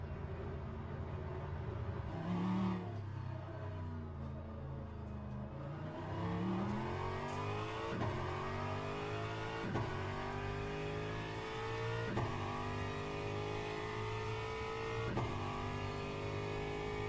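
A GT3 race car engine in Le Mans Ultimate revs steadily, pitch climbing through a series of upshifts with sharp breaks between gears, loud and continuous, no talking.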